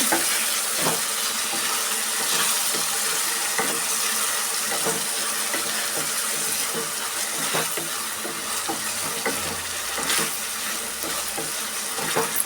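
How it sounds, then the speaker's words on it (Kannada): Tomato gojju frying with salt in a pan: a steady close sizzle runs throughout, with scattered sharp scrapes and clinks from stirring, and no talk. "ಈಗ ನೋಡಿ ಬಿಸಿಗೆ ತಕ್ಕಷ್ಟು ಉಪ್ಪು ಉಪ್ಪು ಸೇರಿಸ್ಕೊಳ್ಳೋದ್ರಿಂದ ಚೆನ್ನಾಗಿ ಫ್ರೈ ಆಗುತ್ತೆ"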